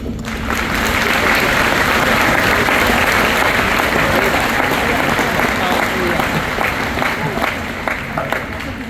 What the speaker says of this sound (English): please join me in a round of applause for all of those here who have helped you to reach this point